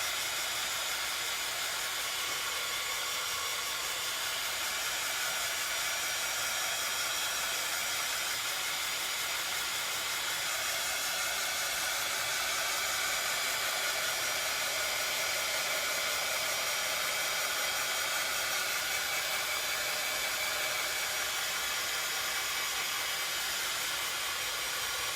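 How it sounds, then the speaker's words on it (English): A craft heat tool blows steadily for the whole stretch while drying a green shamrock for a St. Patrick's Day DIY project, a constant loud, even whooshing hiss with no talk. "And I'm just now using my heat tool."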